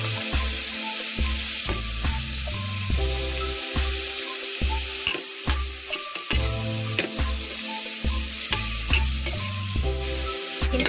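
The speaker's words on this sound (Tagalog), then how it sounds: "Isload natin ang garlic." Garlic sizzles and fries in a hot pan for coconut-milk breaded fish, with steady crackling and a repeated rhythmic scraping as it is stirred, close and fairly loud.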